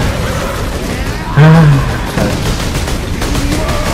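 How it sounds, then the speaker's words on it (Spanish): Gunfire and explosions in the video game Warhammer Space Marine: a rapid fusillade of shots with a heavy boom bursting out midway, loud and continuous against battle noise. "estas explosiones son espectaculares"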